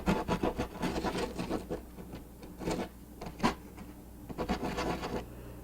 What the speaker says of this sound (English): just go into and scrub the chalk dust into your flower